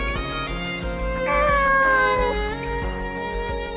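A cat meows in the video game Nights of Azure, a clear drawn-out mew rising and falling over a steady game music backdrop, close and prominent.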